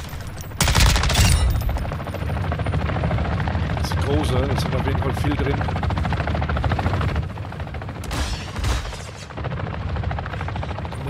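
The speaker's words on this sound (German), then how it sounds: "Oh, und ein Heli natürlich noch." A helicopter in the video game Call of Duty DMZ, Al Mazrah map, thunders with a steady rotor chop throughout, mixed with bursts of gunfire and explosions, while a player talks over it.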